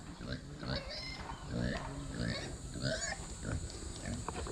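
A pig snorts and grunts nearby in repeated rough bursts that carry over a low rumbling background.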